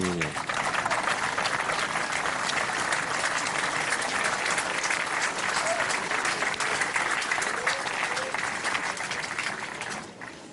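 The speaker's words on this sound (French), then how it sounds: "Il a laissé passer les applaudissements pour la phase finale du Master Jeune" Sustained audience applause at a petanque tournament final, dense continuous clapping from a crowd lasting about ten seconds before tapering off at the end.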